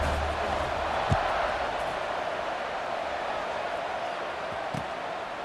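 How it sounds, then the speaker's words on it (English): Stadium crowd noise in the College Football 26 video game during a kickoff: a steady, broad wash of distant crowd roar, with a couple of faint thumps along the way. "this crowd is feeling themselves after that last drive"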